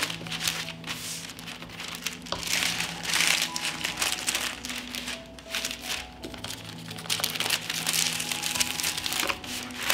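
Baking paper crinkles and crackles steadily as it is folded and twisted around bacon strips, close and continuous with dense papery rustling throughout.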